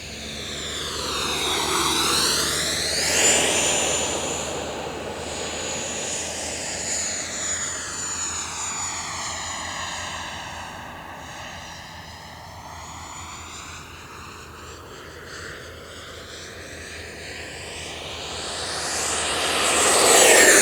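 An XFly T-7A Red Hawk 80mm electric ducted fan model jet in flight, its high fan whine sweeping up and down in pitch as it makes repeated passes, louder at the start and end of the run.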